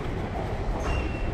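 A London Underground train at a station produces a steady, loud rumble with a faint high squeal of wheels near the end, heard continuously without speech.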